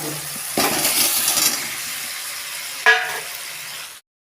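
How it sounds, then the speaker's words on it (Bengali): Potatoes fry in a pan with a close, bright sizzle that rises after they go in, followed by a sharp clink near the end before it cuts to silence. "আর আলুটাকে দিয়ে ভালো করে কষাবো"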